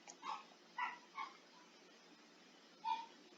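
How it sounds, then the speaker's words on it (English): A dog in the video game FNAF Fazbear Frights gives four short, faint whining yelps, three close together and one after a pause, over a low background hiss. "It's another dog howling."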